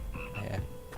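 A brief burst of croaking from a frog chorus in a Hogwarts Legacy music classroom, a few close, throaty calls in quick succession over a low steady drone, with no talking.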